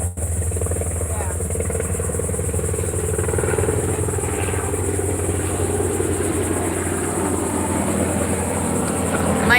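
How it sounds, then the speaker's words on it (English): Airplanes pass overhead outdoors, producing a continuous, fairly loud engine rumble and roar that holds steady without a break. "there's planes in the sky"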